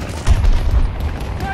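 Grenade blast and gunfire in Battlefield, a deep booming burst that swells and rolls for a second amid crackling shots, fairly loud.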